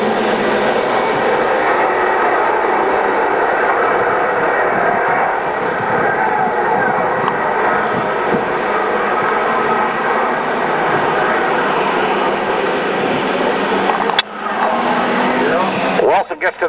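Race cars roar around a track at a 1995 oval event, a continuous loud engine drone that holds steady under a commentator's voice, with a brief cut near the end.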